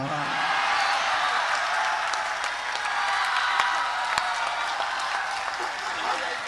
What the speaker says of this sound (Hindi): ताली बजाओ यार जोर से